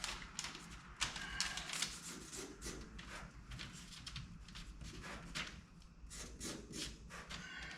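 Sound deadening mat is cut for a 1968 AMC Rambler American, giving quiet, close, repeated scratchy rasping and rubbing strokes in an uneven rhythm, with no talking.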